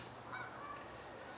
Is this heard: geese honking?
yes